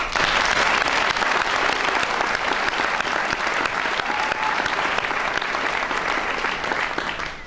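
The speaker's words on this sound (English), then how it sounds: "Please join me in a round of applause for the parents." Sustained, dense applause from a school audience honouring the parents at a lower school valedictorian address, steady and loud throughout without a break.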